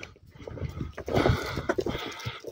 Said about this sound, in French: C'est majestueux, un cheval.